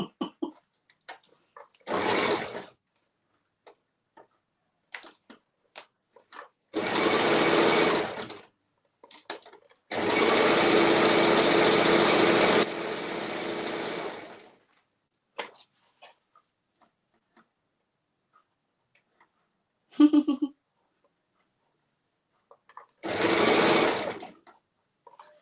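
Sewing machine stitching the tunnel of a tutu, running in several separate bursts of steady whirring, loud and close, with brief pauses and small clicks between runs.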